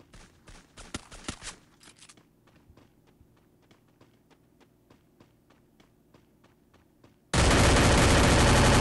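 Free Fire gunfire on an iPad, starting with a quick burst of sharp shots, then a run of evenly spaced lighter taps like footsteps or single rounds, before a loud, dense roar takes over at the end.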